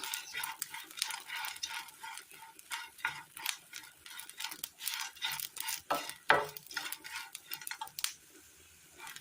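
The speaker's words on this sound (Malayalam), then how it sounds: "പെരിഞ്ചീരകം, ഒരു തണ്ട് കറിവേപ്പില, മിക്സ് ചെയ്യാം." Fennel seeds, black pepper and a sprig of curry leaves stirred in a pan for an egg curry, a spoon scraping and clinking against the metal in a quick, steady rhythm with a faint sizzle underneath, close and unaccompanied by talk.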